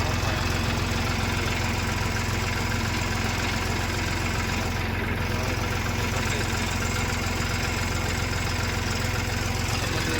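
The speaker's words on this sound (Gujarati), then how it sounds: "હમાર 3 ટ્રેક્ટર હાલે ભાઈ એક જ ખેતર" Three tractors run together in a single farm field, with hammer and rotavator implements at work; a steady, loud, continuous engine drone with low rumble fills the whole stretch without pause and without talk.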